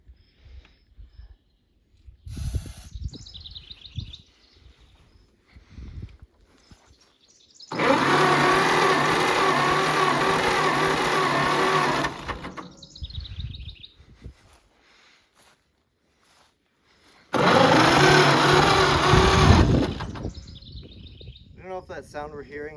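Oliver 70 tractor engine after starting, spitting oil from the exhaust, running loud and steady in two long bursts separated by quiet stretches with bird chirps and brief talk.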